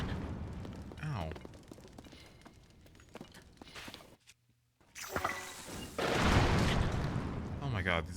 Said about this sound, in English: Oh my god, these explosions.